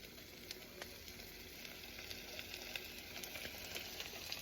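Food sizzling and frying steadily in a pan as it is stirred, a continuous close hiss with faint scraping clicks throughout and no talking.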